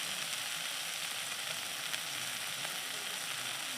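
Small local fish sizzle steadily in hot oil in a pan, a dense even crackle that holds without a break, fairly quiet and close, with no voices.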